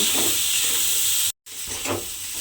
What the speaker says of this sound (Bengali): দিয়ে মটরটাকে একটু আমি হালকা করে ভেজে নেব